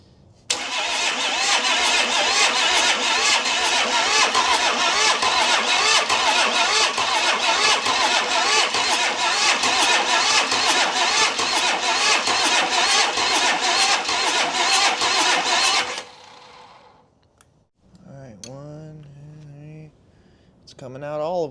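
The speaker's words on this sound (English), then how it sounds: "Let's do a little bit of cranking action." A 1960 Pontiac wagon engine, sitting unused for 34 years, cranks over loudly and steadily on the starter for about fifteen seconds without firing, then stops and a voice follows.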